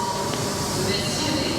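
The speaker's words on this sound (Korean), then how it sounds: "이게 기차였겠다" Loud train passing through a station in Spain, a dense steady rail roar with metallic wheel tones filling the whole moment, up close.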